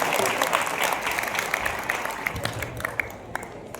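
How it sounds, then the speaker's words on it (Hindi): An audience at a Mahaveer Jayanti kavi sammelan claps for a poet, a full, steady round of applause that gradually thins into scattered, separate claps near the end. "दोनों हाथ ऊपर उठाकर तालियां बजाएं"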